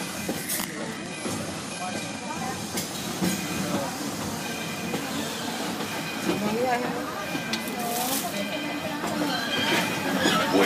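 Walt Disney World Railroad train rolling toward Main Street Station, a steady loud rumble of wheels and cars with clattering and occasional squeals, heard close from on board.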